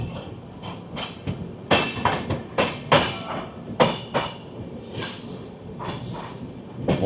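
Rajdhani Express train passing through Mathura Junction, heard from on board as a steady rumble with irregular clattering wheel clicks and rail joints, plus brief higher squeals, fairly close and continuous without talk.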